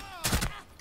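Gunfire in Rainbow Six Siege: a short, loud burst of a few close shots in quick succession, standing out from a low game-sound bed.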